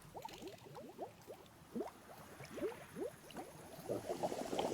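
Liquid pours into a bowl in the Wonderbook: Book of Potions game, a run of close bubbling, gurgling glugs that fills the whole stretch at low level with no talk.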